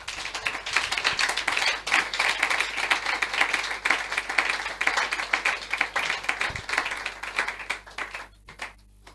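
A church audience at a Congolese religious gathering breaks into loud, sustained applause, dense clapping and cheering that carries for most of the stretch before thinning out near the end.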